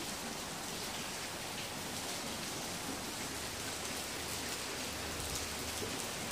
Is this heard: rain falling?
yes